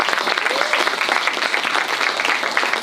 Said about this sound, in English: Yes, I had a round of applause.